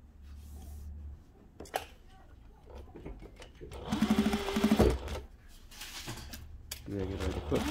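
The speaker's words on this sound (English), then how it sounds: "Now, I will sew on this again." A Juki DDL-8700H industrial sewing machine sews through fleece and wool in a loud, close, fast-rattling burst, followed by shorter stitching runs with handling clatter, while a person speaks between runs.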